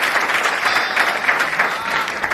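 Audience applause at a Hindi poetry recital, a steady dense wash of many hands clapping that holds evenly throughout, loud and close, with no voices on top.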